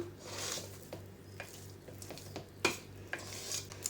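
Jackfruit dough being mixed by hand in a bowl, with soft repeated scraping and stirring sounds and a few sharper knocks against the container over steady low background hum.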